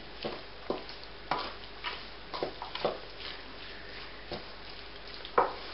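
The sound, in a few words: stirring salt into Caribbean chicken curry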